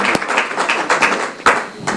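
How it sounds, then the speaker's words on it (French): An audience at a school-kit handover ceremony for children with disabilities applauds, a loose patter of clapping with a few sharp, louder claps standing out close by. "On peut applaudir encore une fois."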